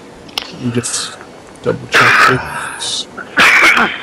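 A man coughs a few times in short, sharp bursts, mixed in with other players talking during a tabletop role-playing game session.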